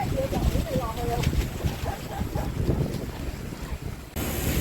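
Strong wind buffets the microphone near open water on a cycling outing, a loud rumbling gust-noise throughout, with faint voices under it and a sudden brighter hiss near the end.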